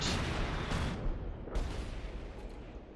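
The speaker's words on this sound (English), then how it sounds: "we get a light artillery barrage there on the right outside of the church" Light artillery barrage in the video game Company of Heroes 2 near a church, with heavy rumbling booms rolling in one after another and fading out, loud and close, with no talk over them.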